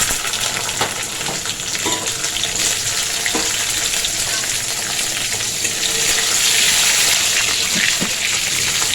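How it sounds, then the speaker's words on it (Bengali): Capsicum frying in hot oil in a pan, a steady close sizzle and crackle running throughout, with occasional stirring clicks and no one talking. "এটা ভাজা হয়ে গেছে, এবার এতে আমি ক্যাপসিকামটা দিয়ে দেবো।"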